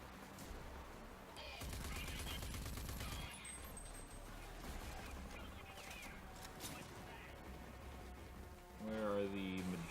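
Sustained gunfire while shooting enemies in RAGE 2, a dense rapid fusillade of automatic shots running through most of the stretch at moderate loudness, with game sounds and effects layered underneath.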